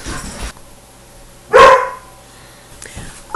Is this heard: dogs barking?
yes